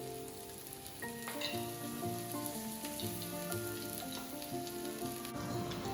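Courgette fritters fry in oil in a pan with a steady, close sizzle and crackle that runs the whole time, under a faint tonal background and with no talking.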